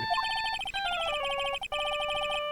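Phone ringtone from the Phoenix Wright: Ace Attorney – Justice for All video game, a quick bright electronic melody of stepped beeping tones that plays alone for a couple of seconds with one brief gap.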